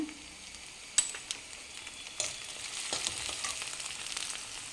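Garlic paste and turmeric fry in a pan with a soft sizzle, a sharp clink at the start and a few scraping stirs, the hiss growing steadily louder.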